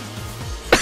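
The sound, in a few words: cough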